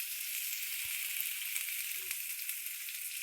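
Raw potato pieces fry in hot oil with a soft, continuous hiss, quiet and close, broken by a couple of faint low knocks from the pan, with no one speaking.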